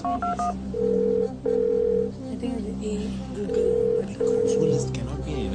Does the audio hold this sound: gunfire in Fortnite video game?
no